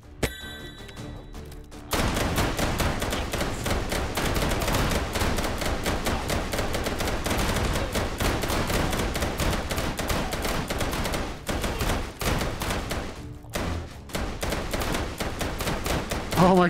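Rapid Derringer gunshots crack out in Hot Dogs, Horseshoes & Hand Grenades VR, a dense, loud run of shots after a single opening report, with a brief pause and more firing near the end.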